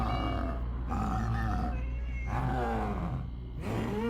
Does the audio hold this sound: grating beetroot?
no